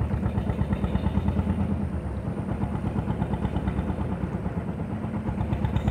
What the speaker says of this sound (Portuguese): Agora esse é o momento que ele desliga o motor do barco